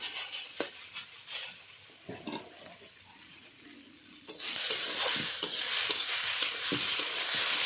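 Steady frying sizzle in a pan with occasional stirring clinks, growing louder and brighter partway through.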